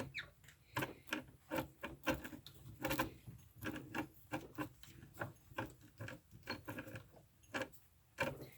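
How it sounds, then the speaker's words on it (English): A pinking machine with a Van Dyke die presses a zigzag edge into cut material. It makes a steady rhythmic series of sharp crunching clicks, close and fairly even in tempo, with no talk. "I'm just going to pink on the line for this machine"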